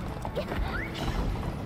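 A horse whinnies with rising tonal calls over steady hoofbeats in the Roblox game Horse Island, moderately loud and continuous across the short stretch.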